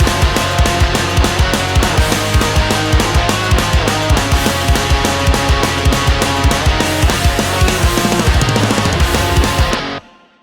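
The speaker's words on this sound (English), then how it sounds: "you'll probably need a guitar tone for some octave lead parts that sound like this" Loud, distorted pop punk electric guitar playing a driving octave lead over pounding drums and bass, steady and fast before cutting off abruptly at the end.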